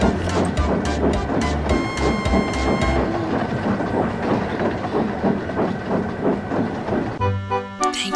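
An animated train pulls the mail train along a railway in a rhythmic clickety-clack with hissing steam, loud and continuous under background music.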